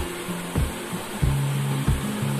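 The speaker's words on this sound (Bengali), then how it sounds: "ভীষণ ভালোভাবে ভেজে নিচ্ছি" Fish frying in hot oil in a home kitchen: a steady, dense sizzle that fills the whole clip, with low intermittent thuds and hum beneath it.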